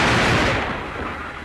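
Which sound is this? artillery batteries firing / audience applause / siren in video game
artillery batteries firing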